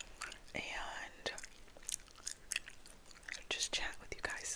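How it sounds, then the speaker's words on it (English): Gum chewing in a quiet indoor setting: soft, close, irregular mouth clicks and wet smacks that run steadily through the clip, with faint whispery breath sounds mixed in. "Obviously chewing gum. I think I might have another piece."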